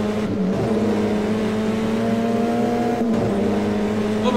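Leonel Pernía's Renault Fluence Super TC2000 race car roars loudly on track at Viedma, heard from onboard as a sustained, strained engine note with brief drops on gear shifts, no talk.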